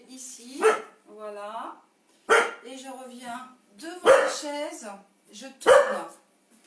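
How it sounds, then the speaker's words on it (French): A dog barks indoors in a sharp series of loud, separate barks spaced a second or two apart, while someone talks in French between and over them. "c'est le chien de mon frère"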